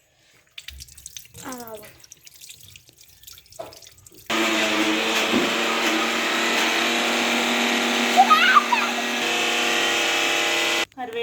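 A tap runs steadily into a sink as hands are washed, a broad constant rush of water lasting several seconds after brief speech, then stopping abruptly near the end.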